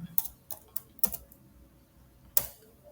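Clicks on a computer keyboard, five separate keystrokes with uneven gaps between them and quiet in between, close and fairly soft.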